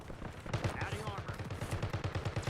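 Video game gunfire, a rapid run of close automatic shots under a talking voice.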